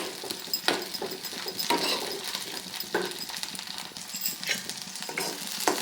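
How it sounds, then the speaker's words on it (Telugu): Green chillies frying in hot oil while making tomato chutney: a steady sizzle with a stirring spoon scraping and clicking against the pan at irregular intervals, close and moderately loud, no speech. "చూడండి ఆయిల్ అయితే పచ్చిమిర్చి అయితే మంచిగా వేగిపోయింది కదా"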